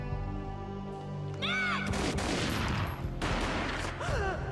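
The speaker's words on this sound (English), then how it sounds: "A gunshot boomed and she fell down in slow motion." Gunfire in the Max Payne video game, a rapid fusillade of loud booming shots with sharp whizzing effects, heard amid tense in-game action and sound effects.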